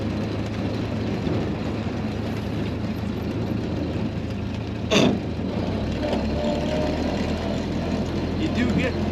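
A 1930 Ford Model A Roadster with rumble seat rolls through a roundabout, a steady low engine drone and road rumble with a short sharp knock partway through.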